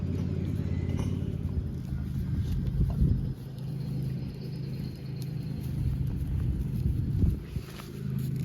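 Pony hooves clip-clop on hard ground in the English countryside, a steady rhythm of close footfalls over a low rumbling background, with no talking.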